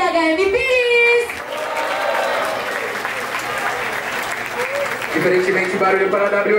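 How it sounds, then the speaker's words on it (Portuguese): A crowd at a Brazilian street rap battle claps and cheers loudly and continuously, with a host's amplified voice shouting over the noise at the start and again near the end. "Barulho para quem gostou das imagens de THM Pires"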